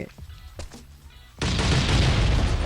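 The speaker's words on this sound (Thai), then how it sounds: "มาระเบิดถังนี่คือหมดเรียบร้อย" After a few faint thuds, a sudden loud explosion booms and leaves a sustained roaring rumble, a barrel blowing up in the survival video game Last Island of Survival.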